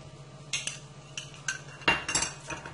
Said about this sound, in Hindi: अब इसको भी अच्छे तरीके से मिक्स कर लेते हैं